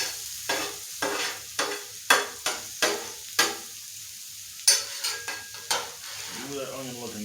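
Onions and peppers frying in a pan crackle under repeated close scraping stirs and utensil knocks in an uneven rhythm, with a faint sizzle between strokes.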